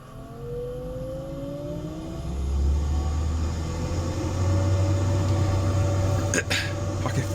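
Kitchen extractor fan running at full speed, a loud steady whirring rumble with a rising tonal hum as it spins up, continuous throughout with a brief clatter near the end.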